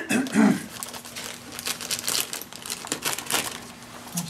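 A plastic bag of corn- and wheat-free dog cookies is cut open up close, with steady crinkling and rustling of the packaging over about four seconds.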